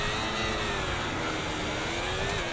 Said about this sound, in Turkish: Yeni oyunun ilk startını Bahreyn'de alıyoruz. Ferrari ile birlikte.